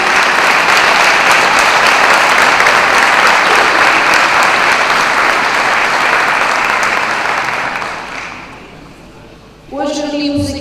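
Audience at a municipal assembly session in Bucelas applauding a band, dense sustained clapping that fades out near the end before a voice begins speaking.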